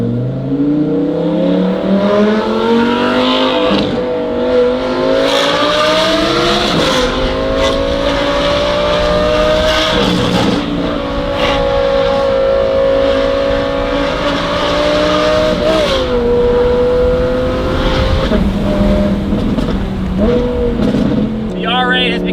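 An Audi R8 V10 fitted with a Valvetronic F1-style exhaust revs hard, its loud, sustained high-pitched engine note rising and falling across repeated pulls, close and continuous throughout, with some talk mixed in.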